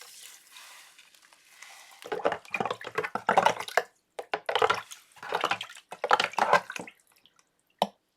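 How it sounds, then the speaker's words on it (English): Warm water splashes into a foot soak basin prepared with Epsom salt, coming in several uneven bursts of pouring and sloshing separated by short pauses, close and fairly loud, with no talking. "make sure you put in some warm water, and then you just put your feet in there and soak"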